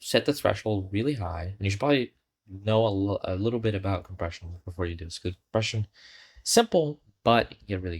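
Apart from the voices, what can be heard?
No distinct noise like a dog, phone or traffic.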